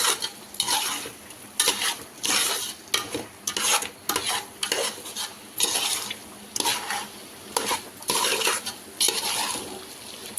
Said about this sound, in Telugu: అన్నీ బాగా మిక్స్ చేసుకోవాలండి ఒకసారి